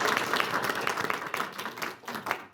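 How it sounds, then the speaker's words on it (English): Crowd at a community coffee event with the mayor gives a round of applause, brisk individual claps audible in the mix, lively at first and thinning out toward the end. "So give them a round of applause."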